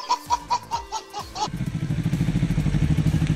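A manual-clutch motorcycle engine idles and putters in a steady rapid rhythm close by, after opening bursts of squeaky, honk-like sounds.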